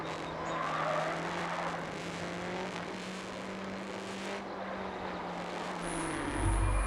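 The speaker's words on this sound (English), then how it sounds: "This one can kind of drift, which is pretty neat." A custom-built vehicle drifts in the building game Trailmakers, its engine holding a steady drone while broadband tire noise runs throughout, with a higher whine near the end.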